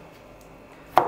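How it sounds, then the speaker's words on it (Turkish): A single sharp knife chop on a cutting board while garlic is being minced, sounding close and crisp after a near-silent moment. "Sarımsakları küçük küçük doğradıktan sonra şöyle,"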